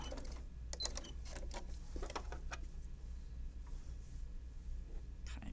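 Sewing machine stitching a zipper bag seam, a quick sequence of mechanical clicks and short bursts followed by quieter clatter and a low steady hum.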